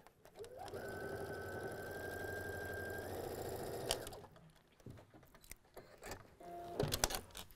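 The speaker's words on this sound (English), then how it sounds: "I'm just assembly line sewing the 4." A sewing machine runs steadily for a few seconds, stitching quilt patches in assembly-line fashion, then stops; soft handling clicks and rustles follow, with no talking.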